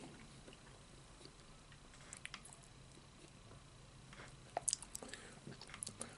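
Checkers funnel cake fries, powdered and topped with strawberry syrup, being eaten up close: quiet, soft squishy chewing and biting with a few brief crunchy bursts near the end, no talking.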